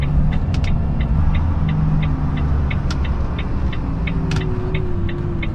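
A brand-new Volvo FH16 truck driving on an evening road, its engine a steady loud low rumble with a slowly rising drone, broken by faint regular clicks like a turn signal and a few brief hisses.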